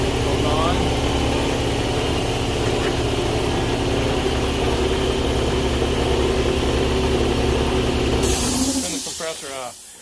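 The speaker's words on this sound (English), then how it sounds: "Turn the compressor off." Air compressor running steadily in a workshop during a mower deck repair, a loud continuous hum and hiss that drops off near the end as it shuts down.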